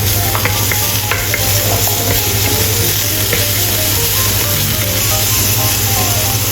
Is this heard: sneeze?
no